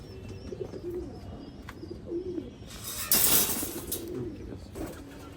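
Gorra pigeons at a pigeon farm coo in soft, low repeated calls against a steady background hum, with a brief louder rustling burst partway through.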